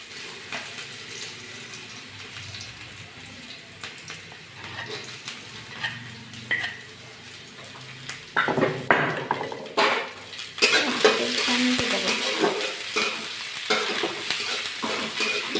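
Tempering oil sizzles in a pan while suji dahi bara and aloo dum are cooked in an Odisha home kitchen. Quiet stirring and utensil clinks come first, then a louder, steady hiss with scraping and clattering.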